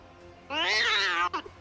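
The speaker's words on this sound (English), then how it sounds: "That's a cat." A processed cat meow made through a voice-tune effect, one long, bright, harmonic wail lasting about three-quarters of a second, followed by a short chirpy tail, loud and close against a quiet background.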